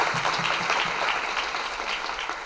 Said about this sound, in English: a round of applause for Mamadou